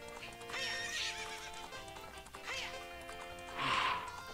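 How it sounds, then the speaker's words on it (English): A horse in the video game Zelda: Ocarina of Time gives repeated whinnies and neighs, with clip-clopping hooves running steadily underneath, close and clear with no talking. "Jump, you freaking horse, jump!"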